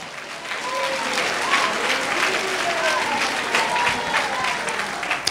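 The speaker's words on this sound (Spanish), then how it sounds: "Fuerte aplausos a Cristo Jesús." Steady, loud applause from a church congregation praising Jesus Christ during a service, a dense clapping wash that holds for several seconds.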